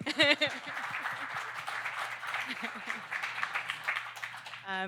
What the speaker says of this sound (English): Sorry, we can applaud.